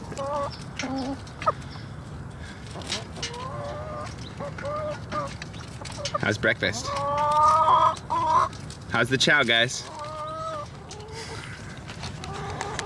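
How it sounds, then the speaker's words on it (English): Several chickens clucking and squawking nearby in overlapping bursts, while a person talks to them over the flock. "I love these chickens"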